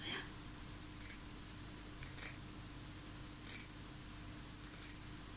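Four short, crisp snips of blunt scissors cutting blouse fabric in a curve, spaced about a second apart, close by over a faint steady hum.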